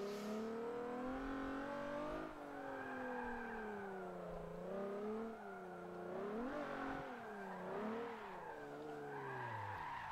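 A car in Forza Motorsport 7 sliding and understeering, its engine droning and rising and falling in pitch as the tyres squeal and skid continuously.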